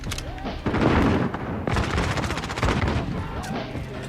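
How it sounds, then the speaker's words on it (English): Video game gunfire, rapid automatic bursts and heavy booms crowding together at close range, loud and almost continuous, with no speech over them. "Taking fire."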